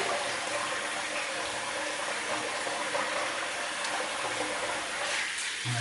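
Water runs from a tap for a rinse during a wet shave, a steady close hiss of flow lasting several seconds.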